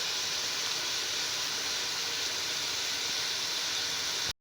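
Capsicum and other vegetables stir-fry in a pan for chicken fried rice, giving a steady, even sizzling hiss that holds unbroken and close, with no talk, cutting off abruptly at the end.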